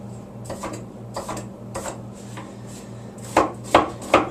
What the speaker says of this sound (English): You chop up the onion.